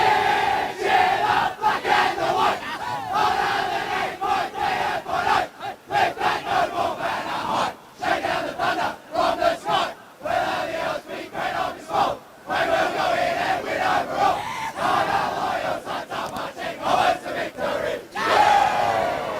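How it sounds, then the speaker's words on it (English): Wangaratta football team and crowd singing the club song at a football grand final, a loud massed chorus with dense, steady voices and some shouting, continuous throughout. "Wangaratta singing Cheer, Cheer the Black and the White"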